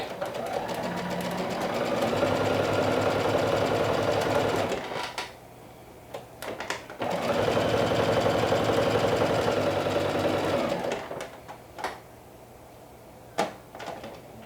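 A sewing machine stitches a seam in two steady whirring runs of about four seconds each. A pause with small clicks and handling noises separates the runs, and more clicks follow the second run.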